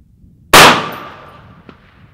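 A single loud, ringing metallic clang as a .308 round from a Wilson Combat precision rifle strikes a steel popper target, with a long shimmering decay and a faint second tap near the end.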